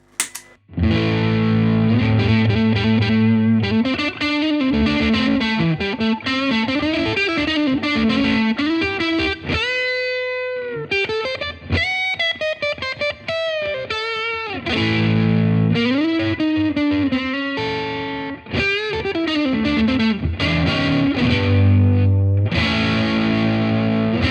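Electric guitar with a thick overdriven tone, loud and sustained, playing chords and lead phrases without pause; the drive stays on throughout.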